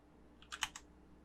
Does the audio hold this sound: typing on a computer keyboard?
yes